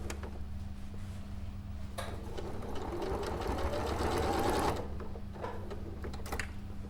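A sewing machine stitches a quilt seam, a steady close mechanical whir that swells into a louder burst of running stitches, then drops back to a quieter hum with a few soft clicks.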